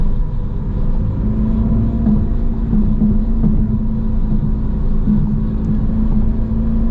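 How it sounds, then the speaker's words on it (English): Synthetic engine sound from a 2025 Dodge Charger Daytona EV in sport mode, a steady, loud, low droning rumble from inside the car that holds evenly throughout with slight swells. "it's weird to hear all the synthetic sounds"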